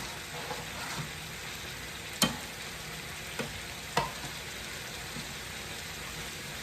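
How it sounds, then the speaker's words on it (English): Ketchup cooks in a pan for Jamaican brown stew porgy fish, giving a low, steady sizzle broken by a few sharp spoon taps and stirring knocks. "let my ketchup cook a little"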